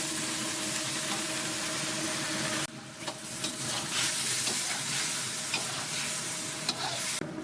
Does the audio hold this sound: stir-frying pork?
yes